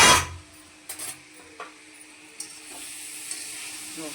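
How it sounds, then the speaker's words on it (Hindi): Bitter gourd (karela) sizzling in a pan as it is tempered and fried, a steady faint frying hiss with a few soft stirring knocks and scrapes, and no talking. "इधर हमने करेला छौंक दिए हैं"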